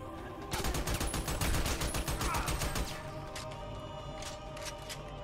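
Rapid bursts of automatic gunfire and single shots from the shooter video game Army of Two rattle loudly for a few seconds, then thin into scattered distant shots and background game noise.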